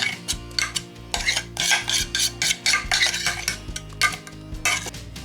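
A spoon stirs apple cake mixture with cream in a bowl, scraping and clinking against the sides in a quick, uneven rhythm over a low background hum, with no talk.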